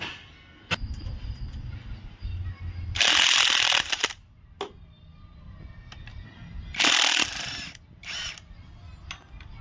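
Ratchet wrench loosening timing cover bolts on a 2020 Hyundai Creta diesel engine during an overhaul, in close bursts of rapid metallic clicking separated by knocks and handling noises in a quiet workshop.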